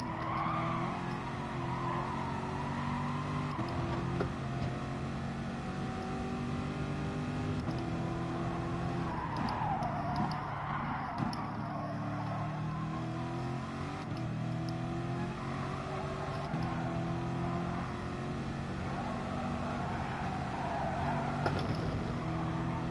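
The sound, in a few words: race cars driving in the video game Gran Turismo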